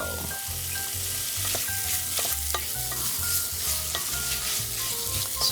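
Butter melts in a pan with a constant, fairly loud sizzle and fizz, alongside a rhythmic low thumping clatter throughout.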